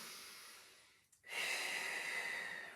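During a Pilates exercise, a person takes a soft, steady breath, pauses briefly, then gives a stronger, longer airy exhale close to the microphone.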